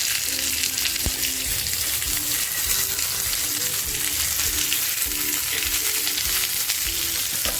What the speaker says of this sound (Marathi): आता हे केळीचं पानामधलं पापलेट मी याच्यामध्ये ठेवून घेतो